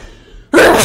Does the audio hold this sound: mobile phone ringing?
no